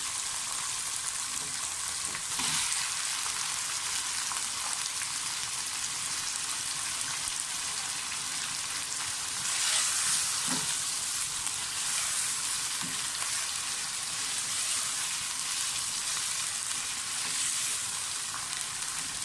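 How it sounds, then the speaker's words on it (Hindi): Chicken pieces fry in a pan for green masala chicken, giving a loud, even sizzle that runs unbroken throughout, with occasional faint stirring knocks. "चिकन डाल दें, चिकन को फ्राई कर लें।"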